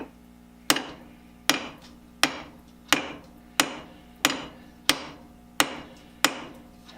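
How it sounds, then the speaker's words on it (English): Three-pound hammer tapping a workpiece to seat it in a lathe chuck: nine sharp metallic strikes at a steady, unhurried rhythm, each ringing briefly before decaying, close and clear with no talk. "And I take a fairly good size hammer."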